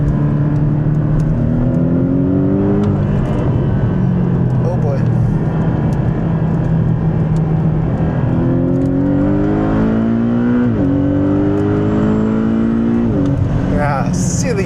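A Porsche 718 Boxster GTS with PDK gearbox pulls hard, its engine note climbing steadily through the revs with sweeping rises and a brief dip at a gearchange, loud and continuous under cabin and road noise.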